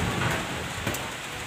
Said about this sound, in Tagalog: So, ulan na to, medyo